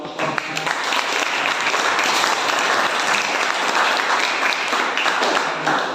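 Dense, steady applause from an audience after a group presentation in a university class, sustained and fairly loud for the whole stretch with no voices over it.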